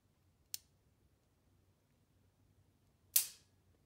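Two sharp metallic clicks from a Sig P210 pistol trigger, the first a light snap and the second, about two and a half seconds later, louder and ringing briefly, in a quiet room.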